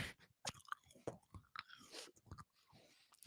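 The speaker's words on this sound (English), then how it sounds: "I'm doing some ASMR apple eating for everybody." Close-miked crunchy apple being bitten and chewed for ASMR, with wet crunches and smacking bites in a steady, irregular rhythm very near the microphone.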